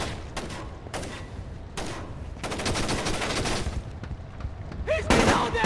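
Video game gunfire in Tom Clancy's Splinter Cell Chaos Theory on Xbox, with bursts of sharp shots and rapid automatic fire coming in clusters at close range, over combat noise that builds toward the end.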